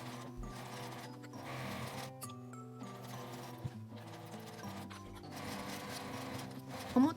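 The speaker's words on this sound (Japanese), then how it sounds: "返し口を開けて1センチの縫い代で縫います。" Sewing machine stitching a 1 cm seam on a small quilted fabric phone bag, running steadily through most of the clip with brief pauses, moderately quiet and close, with no one talking.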